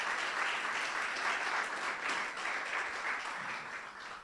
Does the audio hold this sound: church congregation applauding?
yes